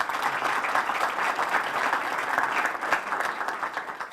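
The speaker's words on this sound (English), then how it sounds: "give her a round of applause, Manda" A crowd at the Thomas Kennedy Park groundbreaking ceremony applauds for a board member, giving steady, moderately loud clapping from many hands with no pauses.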